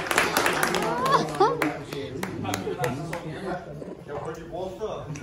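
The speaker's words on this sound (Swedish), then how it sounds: "En applåd till Ingo." At a Christmas party dinner, guests give Ingo a short round of scattered hand claps, with sharp close claps early on that thin out while people talk and laugh over them.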